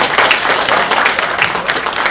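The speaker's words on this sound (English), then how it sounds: "Let's clap for her for those very powerful words." An audience at a symposium applauds, with steady crowd clapping that stays dense and even throughout the short stretch.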